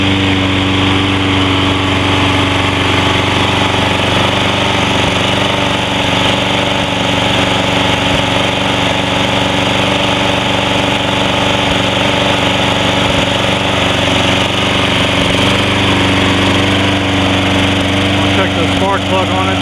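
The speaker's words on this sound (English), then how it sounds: "Personal pace works good. I think it needs to run a little bit, but it is alive with the aftermarket carburetor." A Toro Personal Pace GTS-XL 21-inch recycler lawn mower engine runs steadily on a new aftermarket carburetor, loud and close with a constant droning hum for the whole stretch.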